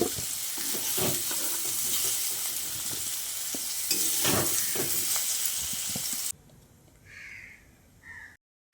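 Pumpkin pieces fry in hot oil, a close, steady sizzle broken by stirring scrapes and clinks, then the frying drops away to quieter faint background sounds near the end.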